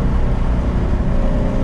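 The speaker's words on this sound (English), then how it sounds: "I was just smoking up the rears in third" A turbocharged Infiniti G35 coupe making around 883 horsepower spins its rear tires, giving a loud, steady, broadband roar of engine and tire noise that holds without a break and with no voices.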